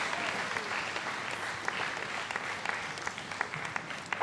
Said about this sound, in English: a warm round of applause for them